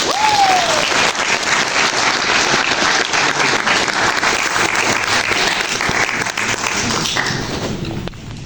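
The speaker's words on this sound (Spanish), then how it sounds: "vamos a recibir con fuertes palmas al señor Santiago Márquez a subir al escenario" Loud, dense audience applause fills a book presentation hall, sustained clapping from a large crowd lasting several seconds before tapering slightly at the end.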